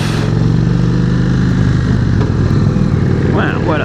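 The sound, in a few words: Indian Springfield motorcycle pulling away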